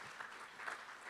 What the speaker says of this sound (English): Round of applause for Margaret, please.